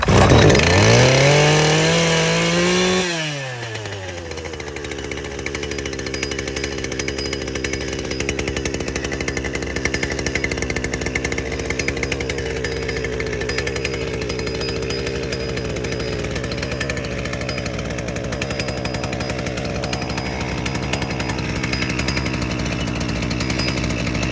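A Holzfforma FF-255 petrol brush cutter engine revving high at first, then dropping abruptly to a rough, steady idle that runs on, close and loud, with no talk.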